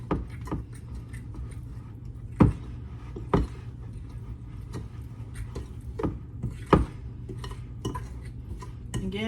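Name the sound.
mixing Gatorade muffin batter in a bowl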